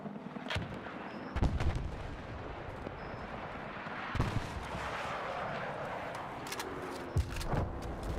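Full-auto RPK fire in the Battlefield 6 video game, heard as a few sharp, booming gunfire bursts spaced seconds apart over a rumbling battlefield background, moderately loud.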